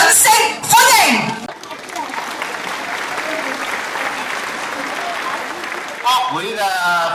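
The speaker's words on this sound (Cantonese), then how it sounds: "有請籌委會黃柏進先生致開幕詞，掌聲歡迎" Audience applause at a village anniversary celebration in Taishan, a steady clapping wash that builds and holds for several seconds, with an announcer's voice over it at the start and end.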